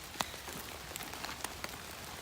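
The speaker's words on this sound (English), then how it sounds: "out here in the woods is very wet, and it's actually raining right now" Rain falls in wet woods as a soft, steady hiss of drops on leaves and ground, with a few sharper nearby drips standing out now and then. It is close and continuous, and no one speaks.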